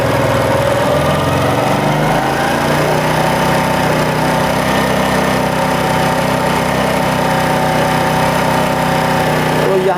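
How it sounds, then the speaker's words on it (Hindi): A Honda CD70 motorcycle engine idles, then rises in speed as the idle is adjusted, settling into a loud, steady, buzzy running note close by. "तो यहाँ पे हमारी बाइक की इंजन जो है रेस तेज़ हो गई है।"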